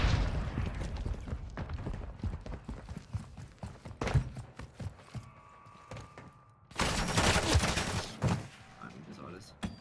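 Rapid bursts of game gunfire from Modern Warfare 3 crackle in quick volleys with mechanical clicks and a loud dense barrage near the end, while a player talks over it.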